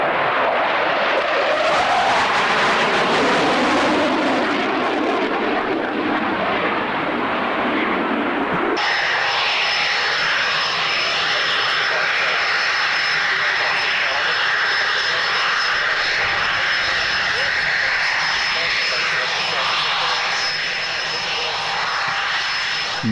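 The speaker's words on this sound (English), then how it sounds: "Love this aircraft. It's the wonderful Buccaneer." A jet aircraft at an airshow roars loudly and continuously overhead, its pitch sweeping as it passes, then settling into a sustained high whine.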